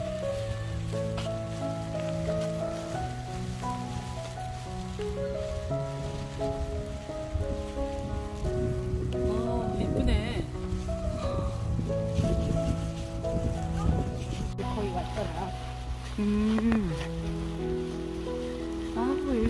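Rain patters steadily at a harbor breakwater on a coastal trail, a soft continuous wash of drops under faint background music.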